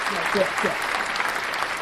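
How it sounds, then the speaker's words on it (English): Steady applause from a crowd, continuous clapping throughout, with a faint voice briefly audible underneath. "Let's give her a round of applause."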